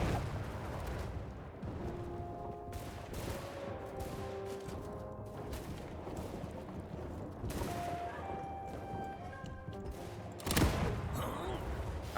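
Cannon and gunfire in a Shokuho samurai battle rumble steadily, with one sharp loud blast near the end and a voice talking underneath.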